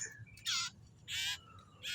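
A caged common iora (cipoh) calls in three loud, bright bursts spaced about half a second apart, each burst a rapid rasping chatter, with a low steady background hum between them.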